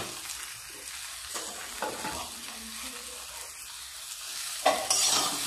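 Chowmein with ground cumin fries in a pan while being stirred; irregular scraping strokes rise over a low steady sizzle, ending in a brief louder burst of frying.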